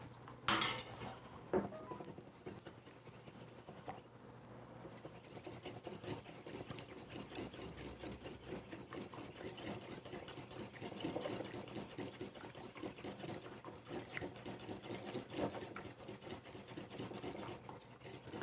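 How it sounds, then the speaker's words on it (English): Eggs beaten for potato doughnuts, a quiet, continuous rapid whisking and clicking against the bowl at close range, with short pauses and no talking. "next we're going to crack our eggs and beat them."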